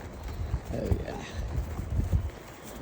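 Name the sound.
horse hooves clip-clopping on a trail ride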